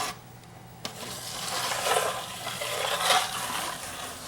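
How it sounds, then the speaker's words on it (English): Vinyl floor adhesive spread with even strokes across a floor, giving a steady, wet scraping swish that rises and falls in long, smooth passes after a small tap. "just do even strokes so that you get a good even coating of adhesive"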